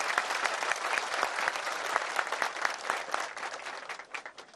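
A crowd applauds at a wrestlers' welcome ceremony in Döşemealtı as the Konyaaltı mayor is invited to speak, producing dense, sustained clapping that fades toward the end.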